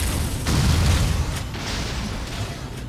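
A super missile fires in Metroid: Other M, a deep booming blast that swells early and decays into a rumbling tail, loud and close with no talking.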